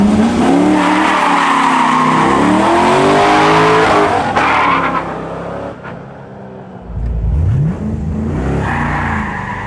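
A Pontiac Solstice with factory gearbox launches in second gear on unprepped concrete with street tires, its engine revving hard and climbing in pitch, tires squealing, then a lift and a second loud surge close by.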